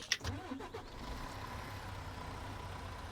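A truck engine cranks to life in the Ranch Simulator farm game with a brief starter burst, then settles into a steady low idle rumble that carries alone through the rest.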